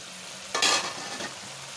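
Tinda (dil pasand) curry heating in a pan, a faint steady sizzle with one brief louder stir or scrape partway through, close by and without talking.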